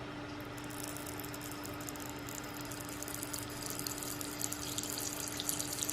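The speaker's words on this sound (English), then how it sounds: "There's your water dish. And I'm about to fill it up for you." Water streams steadily into a pet tarantula's water dish, a continuous faint trickling hiss with a steady hum beneath, growing slightly splashier toward the end.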